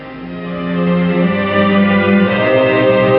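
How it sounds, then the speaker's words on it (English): Menu music from a Studio Ghibli video game plays as sustained, layered harmonic tones that swell slightly louder over a few seconds, with no talk over it. "we've got the menu music playing"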